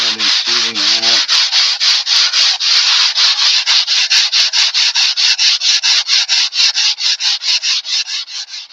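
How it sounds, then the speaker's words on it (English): Steady rhythmic sanding, a foam hand block scraping back and forth over a model airplane wing in quick even strokes, loud and close, with a brief low tonal sound at the start. "I like to use my foam blocks when I'm sanding"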